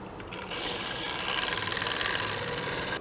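A detail gouge parts off a piece of wood spinning on a lathe, giving a quiet, steady scraping rasp that grows a little louder after the first half-second and carries on evenly over the lathe's soft hum.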